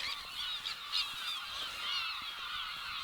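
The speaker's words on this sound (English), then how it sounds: "Oh, the birds are making a noise." Birds call continuously at night in a very dark location, a dense chorus of honking, goose-like cries at a distance, steady throughout with no talking.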